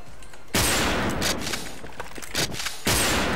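Sniper rifle fire in a Zaitsev-themed shooting video game: loud, close blasts, one after another at irregular intervals, each with a sharp crack and a short, booming tail.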